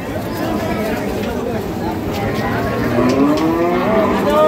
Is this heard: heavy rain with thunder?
no